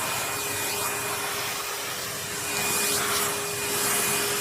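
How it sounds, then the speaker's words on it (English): Hoover vacuum cleaner running steadily at close range while a cat is groomed with it, a loud continuous whooshing roar with no speech. "Oh, he loves the Hoover, doesn't he?"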